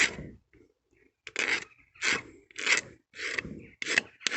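A blade held flat scrapes old varnish off a classic car's wood veneer in a series of about six short, crisp rasping strokes at a steady rhythm, close up and with no talking.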